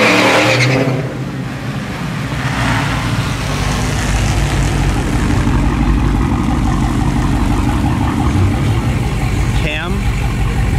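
A stock Dodge Charger Daytona Hellcat muscle-car engine rumbles loudly and continuously, close by, with people talking over the deep roar.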